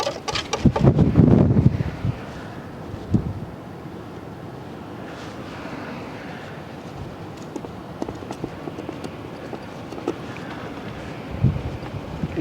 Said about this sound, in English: it's a crazy wind, so there's a lot of disturbance